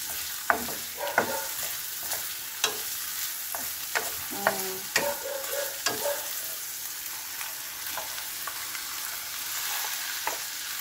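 Cabbage added to sotanghon noodles sizzling in a frying pan, with a steady hiss broken by sharp scraping clicks of a spatula stirring, close and loud with no voices.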